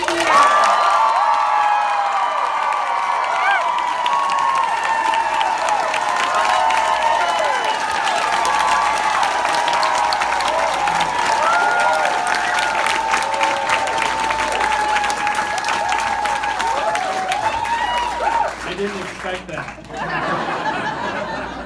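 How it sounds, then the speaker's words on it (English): A live audience breaks into a long, loud round of applause mixed with cheers, whoops and some laughter as comedian JP Sears is welcomed onto the stage, sustained evenly before thinning out near the end. "help me in welcoming him to the stage with a huge round of applause"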